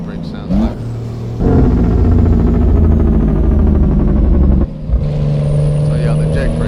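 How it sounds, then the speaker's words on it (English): Simulated heavy truck engine brake from the Z-Mod sound pack in American Truck Simulator: a loud, steady rapid-fire rumbling blat holding for about three seconds, then cutting off and settling back into a lower engine drone. "I'll show you what the jake brake sounds like."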